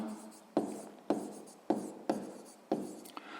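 Hand writing on paper during a sixth-grade maths exercise, five or six short scratching strokes in an even rhythm, close and quiet.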